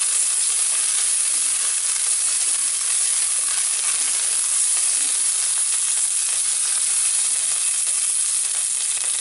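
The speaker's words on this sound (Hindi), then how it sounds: "अब हम इसमें कड़ी पत्ता डालेंगे।" Curry leaves crackle and sizzle in hot oil for vegetable upma, a steady broadband frying hiss that holds evenly at close range throughout with no voices.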